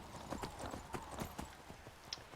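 Horse hooves clip-clop at a steady walking rhythm while riding across the landscape in Skyrim, moderately near and fairly quiet, with a faint whinny-like tone near the end.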